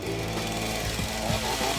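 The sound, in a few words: chainsaw cutting into wood from an upcycled armchair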